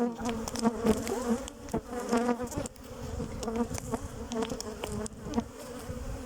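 Agitated honeybees swarm around an opened beehive, making a dense, continuous buzz close by with shifting pitch and occasional louder passes near the listener.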